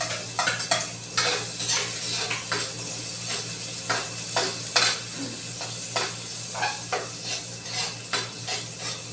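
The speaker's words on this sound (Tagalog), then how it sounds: "maglalagay na tayo ng onion at saka garlic" Onion and garlic sautéing in a pan for a sayote and cabbage dish with egg: a steady close sizzle with repeated scraping stirs of a utensil against the pan, no talk.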